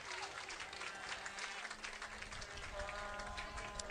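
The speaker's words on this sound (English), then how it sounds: "Kissi gets a nice round of applause as he scored his 6th goal of the evening this year" Stadium crowd at a Tampa Bay professional soccer match applauds after a goal, a distant, continuous roar of clapping and cheering with commentary talk over it.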